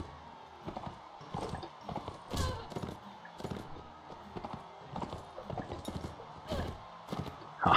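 Horse hooves clop in quick, uneven bursts during a Mount & Blade Warband tournament, fairly faint and close, with occasional sharper hits and a brief whinny-like sound at the end.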